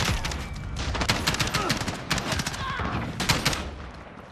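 Rapid gunfire from a gold MP7 submachine gun in the video game Modern Warfare, loud and near, bursts repeating across the clip over game noise.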